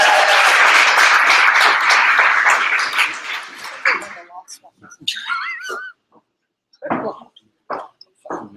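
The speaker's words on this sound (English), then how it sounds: "Big round of applause." An audience at a hackathon pitch event breaks into a round of applause that lasts about four seconds and then fades out, followed by scattered whistles and voices talking in bursts.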